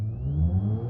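A car engine in the BeamNG Drive video game revs hard at a launch on a test track, a loud, steady mid-pitched drone with a whining tone rising slightly, heard alone without talk.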